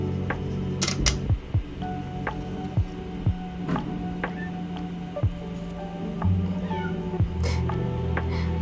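A house cat meows several times from nearby, short repeated calls over a low hum from a fan and faint ticking clicks.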